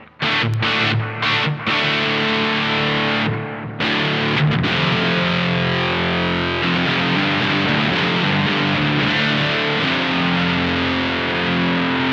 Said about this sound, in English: I'm going to put a little bit of Bucket Brigade delay on.